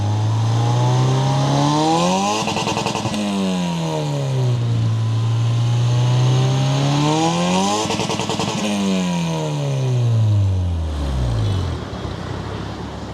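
A car engine fitted with a remote-controlled exhaust system revs repeatedly, rising and falling in loud sweeping throttle blips close by, with a deep roar between peaks and no talk.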